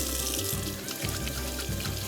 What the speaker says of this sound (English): Let's have a quick rinse because I can't really handle anything else. So 2 seconds at the tap.